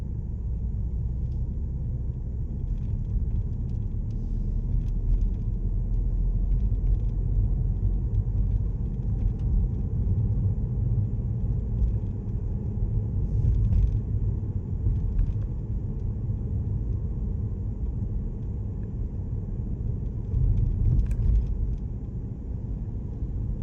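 A car drives along Pont Valiant Lane on Guernsey's west coast in the early morning, with a steady low engine and road rumble from inside the vehicle throughout and no talking.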